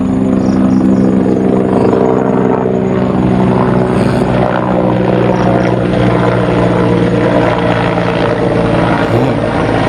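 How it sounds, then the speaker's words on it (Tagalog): A private, non-military helicopter passes overhead outdoors at sunrise, its loud steady rotor thump and engine roar filling the whole stretch without letup and with no voices. "private helicopter"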